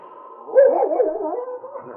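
King, a dog in a radio drama, gives a loud, close run of barks and whining yelps lasting about a second and a half, alone without talk.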